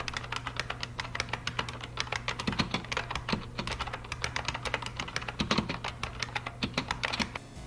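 Rapid typing on a buckling spring mechanical keyboard gives a dense run of sharp, clacky keystrokes in an uneven rhythm, heard close up with a low steady hum underneath and no talking.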